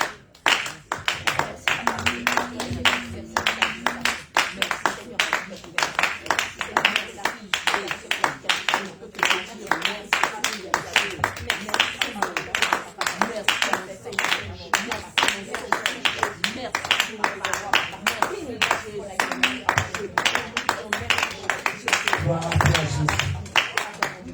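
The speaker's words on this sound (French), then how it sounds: "Tu vas commencer à acclamer ton Dieu. Acclame le Seigneur." Church congregation clapping and acclaiming God: dense rhythmic hand clapping from many people runs throughout, mixed with loud voices shouting and praising, a lively close crowd sound.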